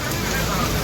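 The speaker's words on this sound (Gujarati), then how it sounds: "વરસાદ આવી ગયો" Rain pours steadily as a dense, even hiss of falling water, close and loud, with no break for its short length.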